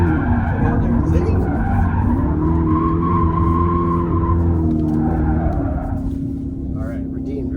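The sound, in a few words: 2025 Dodge Charger Daytona Scat Pack drifting, tires skidding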